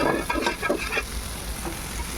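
Boiled peas and potatoes tipped into a pan of spice paste. The sizzling and frying sound is loudest at the start, where stirring scrapes through, then settles into a quieter steady fry.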